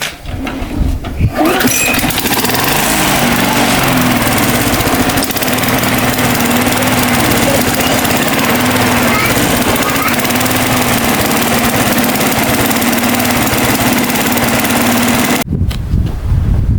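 Repaired lawn mower engine, fixed with a new capacitor, roaring loud and close after a brief start, holding a steady buzzing drone for about fourteen seconds before cutting off abruptly.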